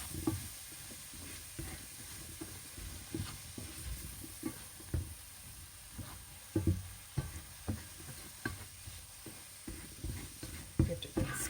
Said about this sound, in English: I'm going to mix the veg, make sure it's all coated in the spices